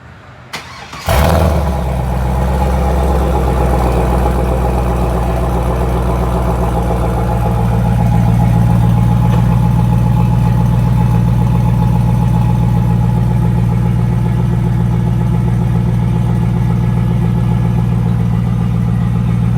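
A 2002 Chevrolet Camaro Z/28 engine cranks and catches with a loud start, then settles into a steady, deep rumbling idle that continues close by for the rest of the clip, slightly louder in the second half.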